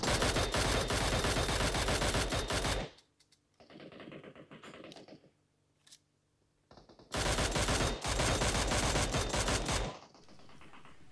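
Gunfire from the mobile battle game Battlegrounds Mobile India, fired at a military base: two long bursts of rapid, loud automatic fire, separated by quieter sporadic shots and a near-silent pause.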